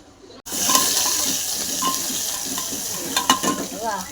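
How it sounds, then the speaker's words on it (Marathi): Goat meat masala fries in a pan with a loud, steady sizzle, and occasional stirring scrapes and clinks sit on top of it. No one speaks. "गुण्यात बकराचा मसाला टाकून घे त्याला मस्त फ्राय करून घे"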